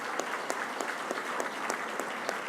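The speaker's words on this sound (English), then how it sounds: "I think they deserve a big round of applause as well." Steady applause from an audience at the 2018 Rolex LPGA Awards ceremony, dense clapping with a few sharper claps standing out, continuous and moderately distant.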